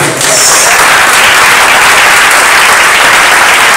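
Loud, sustained applause fills a church as a congregation claps for Jesus, a dense, even wash of many hands continuing without a break.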